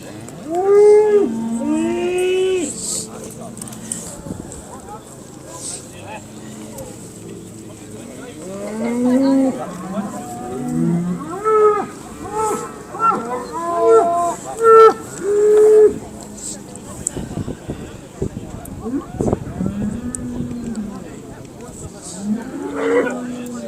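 Simmental cattle at a Scottish national show in Dumfries moo repeatedly, several drawn-out calls overlapping in a busy show ring, loud and near, with faint talk and ring noise beneath.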